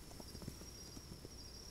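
Horse hooves clip-clopping at a run in Kingdom Two Crowns, a quick string of soft, repeated thuds against a steady high background tone, moderately faint.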